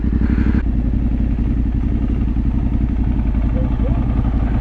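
Several motorcycles on a trail ride across the moors idle and rumble steadily while crossing a slippery stream ford, a loud continuous engine drone with clattering, and a sharper burst near the start.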